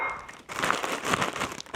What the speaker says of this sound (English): The way I do that, always, plastic bag, ginger snaps go in